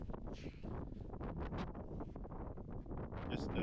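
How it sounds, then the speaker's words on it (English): Wind gusting outdoors in the Missouri River Breaks during a mule deer hunt, a steady broadband rush buffeting the microphone for the whole stretch, loud and close with no talk over it. "try and shelter you from the wind here"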